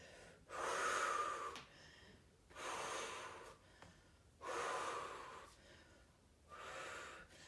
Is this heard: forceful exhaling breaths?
yes